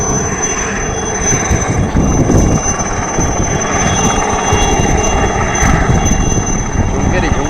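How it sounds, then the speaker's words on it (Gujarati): An Indian Army ZAI-429 helicopter, brought down in a village field after a fault, roars loudly and continuously close by, its engine and rotor drone steady throughout while people talk nearby. "ઇન્ડિયન આર્મીનું ZAI-429 હેલિકોપ્ટર ગોવાણા ગામની સીમમાં અંદાજિત કલાક જેટલો સમય માટે ઉતારવામાં"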